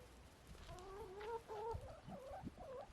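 Several chickens clucking softly nearby, a run of murmured, wavering calls in an otherwise quiet outdoor setting.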